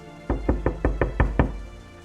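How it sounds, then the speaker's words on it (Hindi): Seven loud, evenly spaced knocks strike a door late at night in a village, each a sharp close thud, with no voices around them. "रात का करीब 11 बजा होगा जब दरवाजे पर जोर से खटखट की आवाज हुई थी।"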